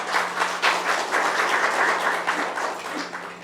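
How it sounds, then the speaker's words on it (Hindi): Applause welcoming Dr. Renu, secretary of the Vikalp organisation, at a staged theatre event for the play Sudama Charit; dense clapping from an audience with a steady low hum beneath, no talk over it. "एक बार जोरदार तालियों से उनका स्वागत करेंगे।"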